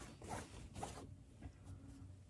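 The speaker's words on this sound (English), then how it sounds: "So I'm gonna unzip this about halfway." A zipper on a fabric reusable shopping bag is pulled open about halfway, with two quick close zips followed by softer rasping as the pull slows, all quiet and without talk.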